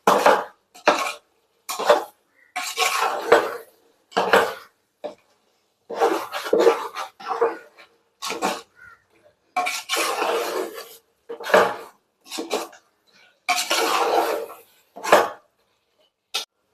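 A metal spoon scrapes and clanks against a large biryani pot as a kilo of chicken with mint and coriander leaves is stirred, in repeated loud bursts of scraping separated by short pauses.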